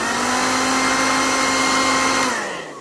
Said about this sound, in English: So what you do, hairdryer,